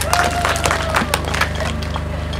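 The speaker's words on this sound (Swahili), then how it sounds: "mjipigie makofi mengi sana." Audience at an outdoor community gathering in Njombe breaks into sustained, dense applause, steady and fairly loud throughout with a faint tonal hum underneath.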